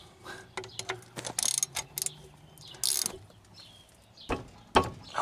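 A small socket ratchet works a bolt on a car's shock suspension knuckle during brake caliper work, giving scattered bursts of close clicking and metallic handling noise, with short pauses between turns.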